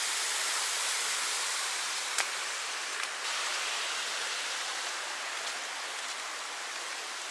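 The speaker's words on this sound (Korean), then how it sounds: "여긴 또 이런 천연 폭포가 있습니다." A natural waterfall roars outdoors as a steady, dense broadband rush, loud and unbroken, with a couple of brief clicks.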